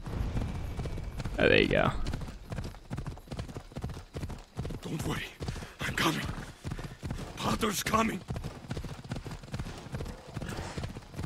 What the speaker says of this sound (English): Call your horse, boy.